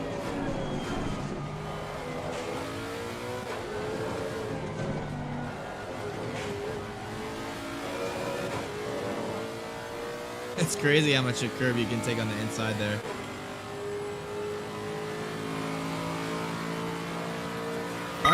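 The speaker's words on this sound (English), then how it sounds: "Car sounds absolutely fantastic too. I love this car. I think the Lexus is probably one of my favorite cars in the game actually." Lexus RC F race car in Assetto Corsa Competizione, its engine revving up and down through gear changes on track with a sharp burst mid-lap, while someone talks over it.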